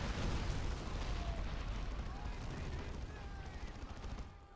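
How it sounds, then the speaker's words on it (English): Rapid, dense autocannon fire in a Warhammer 40k battle game, a sustained loud barrage of repeated shots with explosions and battle noise layered throughout. "This autocannon is ripping the enemies apart."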